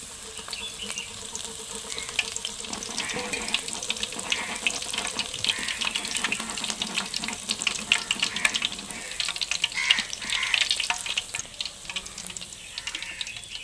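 Crushed garlic frying in hot oil ahead of making spicy boondi, a dense, continuous hiss and crackle that runs steadily throughout with no voices.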